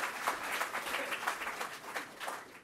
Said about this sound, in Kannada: ನಿಮ್ಮ ಪ್ರೀತಿಯ ಚಪ್ಪಾಳೆಯ ನಡುವೆ ನನ್ನ ಕಾರ್ಯಕ್ರಮವನ್ನು ಇದೀಗ ಶುರು ಮಾಡ್ತಾ ಇದ್ದೀನಿ